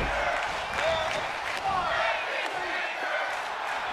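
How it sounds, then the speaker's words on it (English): A wrestling arena crowd at a 1983 NWA Starrcade event roars and cheers in a steady, broad wash of noise, with scattered shouts and thuds, under a commentator's voice. "The sound of this crowd is deafening"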